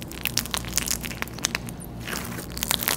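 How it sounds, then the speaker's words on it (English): Crunchy clear slime packed with peanut-like foam beads is squished by hand, giving a dense, continuous stream of close, loud crackles and pops with no talking. "you gotta listen to this peanut crunch"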